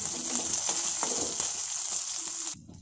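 Onion fries in oil in a pan with a steady, close sizzle and occasional stirring scrapes, and the sizzle cuts off near the end.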